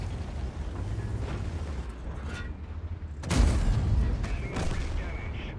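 A tank cannon shot in the World of Tanks video game, a sharp loud boom with a rumbling tail that stands out above continuous low engine and battle noise, while a commentator talks over it.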